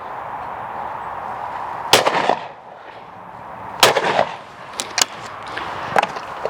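Shotgun with 30-inch barrels firing outdoors: five sharp, loud shots at irregular intervals, the first two followed by rolling echoes and the last three closer together, with no talk.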